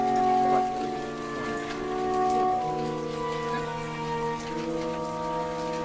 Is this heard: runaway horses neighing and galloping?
no